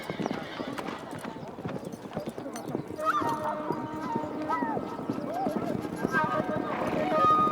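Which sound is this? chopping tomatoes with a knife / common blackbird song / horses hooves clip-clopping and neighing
horses hooves clip-clopping and neighing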